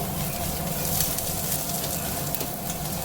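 Cashew paste sizzles in a pan with lightly fried chopped onion and garlic while being stirred, a close, continuous crackling fry with soft scraping movements throughout.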